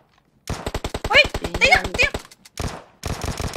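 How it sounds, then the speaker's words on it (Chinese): Automatic gunfire bursts from a PUBG Mobile match, rapid close shots in a dense string with short gaps, while players talk over the action. "欸，后面有个声音，是谁在开枪？"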